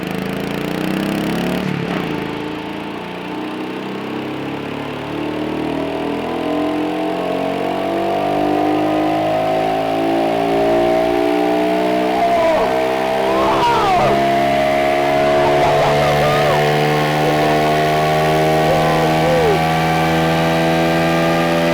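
A Kawasaki KLX 110 motorcycle engine runs steadily on a dyno, its harmonic drone climbing in pitch as it is revved up and held high, loud and close throughout with no talk.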